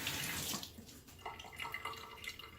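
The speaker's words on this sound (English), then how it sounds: "So I'm just gonna put some water on my sponge" Water run onto a makeup sponge, a brief close splash and trickle from a tap that fades into softer dribbling.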